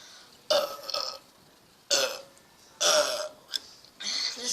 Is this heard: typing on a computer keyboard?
no